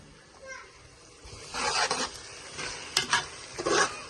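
Chicken and onions frying with masala in a pan, with stirring scrapes and soft sizzling that swell in bursts over a quiet background.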